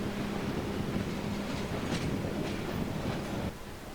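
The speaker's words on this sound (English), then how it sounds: "This is the train from Villazón to Uyuni, arriving late one evening," A train from Villazón to Uyuni pulls into a station in the evening with a continuous, heavy rumble and soft rhythmic clatter, fairly near and steady throughout, easing slightly at the end.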